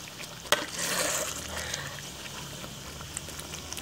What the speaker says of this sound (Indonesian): saat ini rica yang kita goreng sudah seperti ini nih